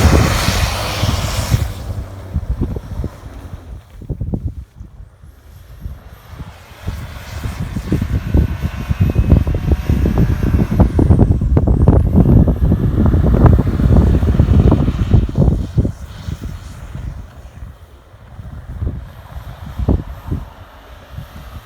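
A 2018 Ford EcoBoost car spins donuts in falling snow with traction control off: loud engine roar rises and surges in bursts, building to a sustained peak midway before easing back, with wind buffeting the microphone.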